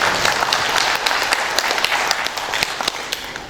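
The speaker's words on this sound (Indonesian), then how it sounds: "kita berikan aplaus kepada Universitas Indonesia" A graduation ceremony crowd applauds Universitas Indonesia with sustained, dense clapping from many hands in a large hall. It sounds steady and moderately loud throughout, with no voices over it.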